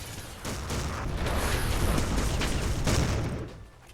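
Rapid gunfire crackles through a competitive video game match, a dense near barrage of overlapping shots and booms running almost the whole time before tapering off at the end.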